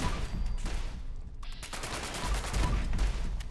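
Rapid gunfire in the video game Fallout 76 as turrets are shot down, a dense loud burst of automatic shots filling the clip with little pause.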